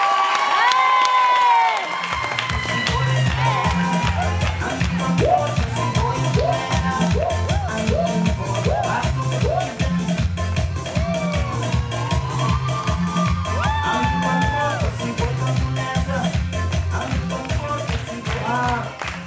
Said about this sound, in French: on peut l'applaudir comme il se doit, sous l'applaudissement.